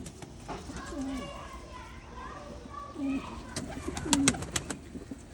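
Sialkoti breeder pigeons coo softly in a few low, rolling calls spaced across several seconds, with children's voices and other bird chatter in the background.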